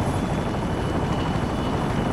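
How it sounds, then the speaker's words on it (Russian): Helicopter arriving at an evacuation zone in Call of Duty: Modern Warfare Remastered, a steady loud rotor thrum and engine roar filling the whole stretch with no voices over it. "Вот он, вертолет прилетел."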